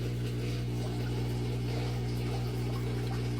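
Water drains from a fill-and-drain grow bed in a 60-gallon DIY solar-powered aquaponics system, a continuous trickling rush over a steady low pump hum.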